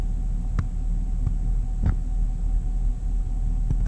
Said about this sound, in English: So here's the idle.